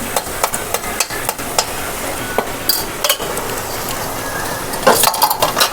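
Onion with turmeric fries in a pan, sizzling steadily while a utensil stirs and scrapes against the metal in frequent close clinks and knocks.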